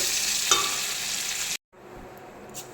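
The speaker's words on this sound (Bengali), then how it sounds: "কিছুটা জিরে ফোড়ন দিয়ে দিলাম।" Cumin seeds hit hot oil in a pan for a pointed gourd curry. A bright, steady sizzle lasts about a second and a half, breaks off suddenly, then returns as a softer, quieter frying hiss.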